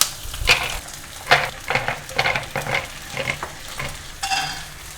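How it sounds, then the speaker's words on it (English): Pistachios dry roasting in a pan, the nuts being stirred and tossed with repeated rattling, scraping bursts over a steady light sizzle, close and fairly loud with no talking. "dry roast 100 grams of pistachios in the same pan"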